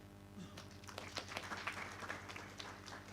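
Audience at a GIS and earth observation symposium clapping to welcome a speaker, a steady patter of many hands that swells and holds for a few seconds, fairly close and unaccompanied by talk.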